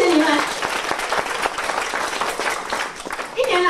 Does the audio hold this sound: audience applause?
yes